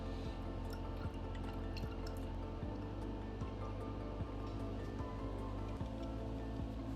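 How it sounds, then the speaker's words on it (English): Distilled water poured into a lab sample during a lactose and galactose assay, giving a steady trickling, dripping fill with soft periodic drops, close and continuous for the whole stretch. "Dilute volume with distilled water."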